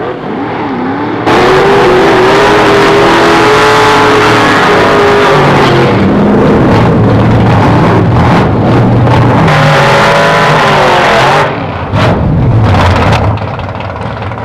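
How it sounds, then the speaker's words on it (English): A drag racing car does a burnout, spinning its rear slicks to heat them. The engine roars loud and sustained for about ten seconds, drops briefly, then revs hard again. "The first activity is to spin the rear wheels to heat up the special drag racing slicks to their operating sticky"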